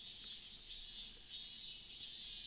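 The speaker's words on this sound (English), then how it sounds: "Cicada sound effect number 3" A cicada sound effect played during a livestream, a high-pitched continuous buzzing drone pulsing in slow waves, faint and alone with no voices.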